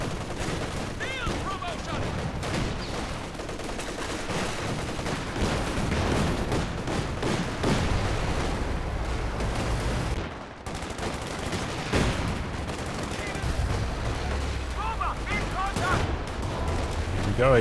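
Company of Heroes 2 battle audio: rapid rifle and machine-gun bursts mixed with heavier anti-tank gun shots, dense and continuous, under a commentator talking throughout.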